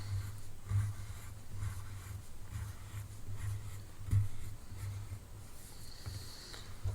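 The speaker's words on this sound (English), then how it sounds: "I'm making my lines a lot darker now because I kind of know where the lines are going to be." A pencil scratches darker lines onto paper at close range, a soft dry rasp in short repeated strokes with small pauses between them, and no talking.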